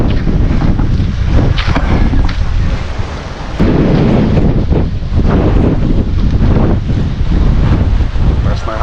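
Strong wind at a seaside pier in Damortis, La Union, buffets the microphone in a loud, continuous roar with gusty surges and a brief lull partway through.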